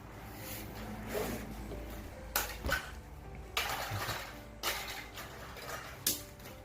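A Mitsubishi electric fan head being tilted up and down gives a handful of sharp, close plastic clicks and clacks at irregular intervals over a faint background hum.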